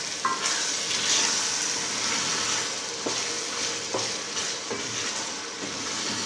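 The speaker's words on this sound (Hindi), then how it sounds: "इसके अंदर मसाला ऐड करेंगे, सारा गरम मसाला। इसको अच्छी तरह मिक्स कर देंगे।" Minced meat keema with peas being stirred in a pan with garam masala, a steady soft sizzle with repeated scraping strokes of the spoon against the pan, close and moderately loud, with no talking.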